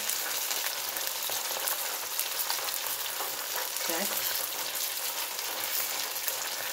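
Dumplings with raw filling fry crisp in a hot pan, a continuous loud sizzle and crackle of oil like steady rain, close up, with a faint brief clink partway through and no talking.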